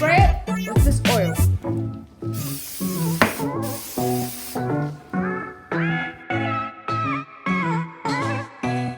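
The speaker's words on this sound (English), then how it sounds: "we're going to spray it with this oil" Cooking oil sprayed from a can onto a baking tray: one sustained hissing burst lasting about two seconds, close and loud, with a person talking before and after it.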